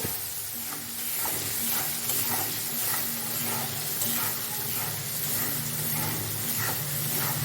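Masala with salt and turmeric frying in oil in a pan, a continuous bright sizzle with soft rhythmic stirring scrapes repeating throughout, no voices.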